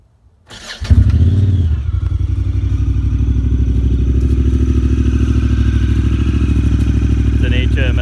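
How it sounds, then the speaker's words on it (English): A Honda Talon side-by-side fitted with an HMF full dual exhaust and fuel optimizer starts up and settles into a loud, deep, steady idle with a rapid throbbing pulse, heard close up. "It's an HMF full dual exhaust with a fuel optimizer."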